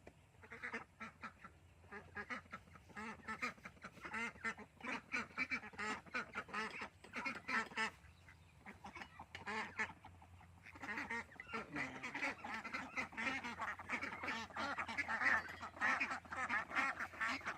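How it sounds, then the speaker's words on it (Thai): A flock of ducks quacks nearly nonstop, close by and fairly loud, with overlapping calls forming a busy, chattering din. "เป็ดไก่กินดีค่ะ"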